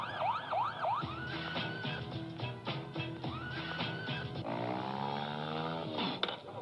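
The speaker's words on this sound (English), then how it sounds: "This is what it looks like when everything starts to sound like a siren." A loud, wailing siren rises and falls in repeated sweeps, with a long steady drone and shifting tones, continuous throughout with no talking.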